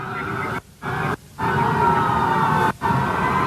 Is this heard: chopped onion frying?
no